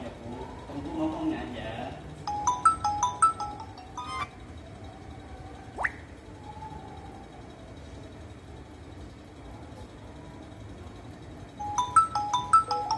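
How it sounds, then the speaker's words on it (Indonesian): A phone ringtone plays a repeated electronic melodic pattern in two bursts, near and moderately loud, with background traffic and voices talking between them. "Banyak banget telepon."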